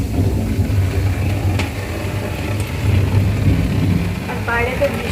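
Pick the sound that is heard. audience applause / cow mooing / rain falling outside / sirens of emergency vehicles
rain falling outside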